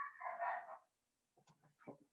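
Dogs at home give a few faint barks and yips, with a longer whining bark first and then quick short barks after a pause.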